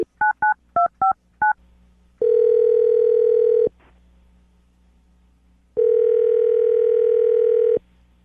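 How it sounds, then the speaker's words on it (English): Telephone keypad tones as a phone number is dialed during a morning radio show call, six quick beeps followed by two long steady ringback tones separated by a short silence. "I'm going to dial the phone number right now"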